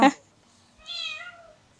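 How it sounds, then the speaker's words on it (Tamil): A kitten gives a single clear rising-falling meow at moderate distance, following a brief sharp noise at the start, with quiet background and no talk. "வீடை சுற்றி நிறைய பூனைக்குட்டியாக இருக்கே"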